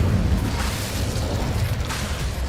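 A fire spell cast in Hogwarts Legacy, giving a loud, dense rumbling burst with steady low-end roar that sustains throughout, with no talking.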